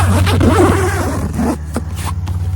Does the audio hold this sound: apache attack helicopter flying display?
no